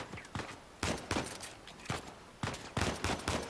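Gunfire in Uncharted 4: A Thief's End, separate sharp shots and short bursts landing in irregular clusters at moderate loudness, with quiet gaps between volleys.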